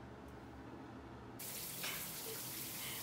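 Tap water suddenly gushes on after a quiet start, running steadily and close into a sink while blue-dyed hair is rinsed out; no one speaks.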